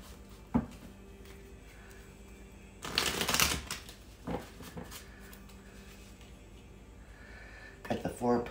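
Tarot cards shuffled by hand during a reading, a burst of riffling flutter followed by scattered card snaps and slaps, close by, with a voice speaking around the shuffling.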